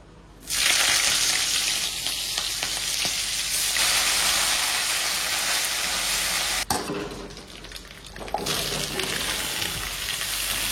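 Fenugreek seeds, green chilli and ginger paste sizzle steadily in hot oil, a loud continuous frying hiss that dips briefly and resumes, with faint clinks and stirring and no voices.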